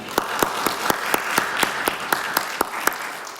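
A church congregation claps in unison as encouragement during a Sunday service. The sharp, evenly spaced claps keep a steady beat of about three per second over a soft room murmur.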